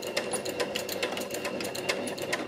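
Domestic sewing machine back-stitching a Christmas stocking, a steady rapid needle clatter running continuously at close range with no talk.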